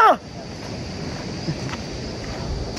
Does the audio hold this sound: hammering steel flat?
no